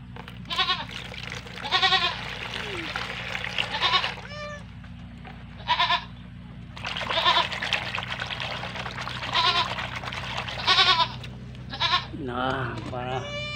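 Goats bleat on a farm where a newborn kid has just arrived, with repeated loud, wavering cries arriving in bursts close by, separated by short pauses over a low steady background hum.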